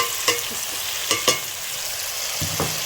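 Chicken pieces stir-fried with spices for a degi-style chicken korma, a steady frying sizzle punctuated by several sharp spatula clacks and scrapes against the pan, loud and close with no talking.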